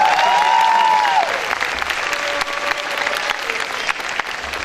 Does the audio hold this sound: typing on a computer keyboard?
no